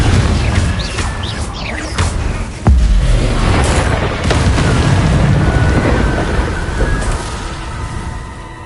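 Confringo fire-spell explosion in Hogwarts Legacy gameplay: a loud, sharp boom bursts out partway through, followed by rumbling blast noise over a steady, dense bed of game sound.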